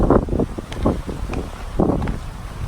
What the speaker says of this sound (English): the wind will blow all my cards away